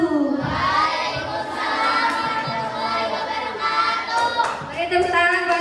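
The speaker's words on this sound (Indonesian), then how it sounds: "Beri tepuk tangan buat kelompok 5." A classroom of students applauds a presentation group, with clapping mixed into crowd chatter and a few raised young voices over several seconds, steady and fairly loud.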